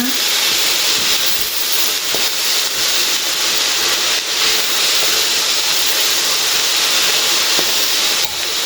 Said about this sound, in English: I will now cover it and it will form its own water because I'm steaming it.